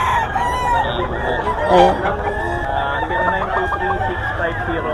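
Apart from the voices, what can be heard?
roosters crowing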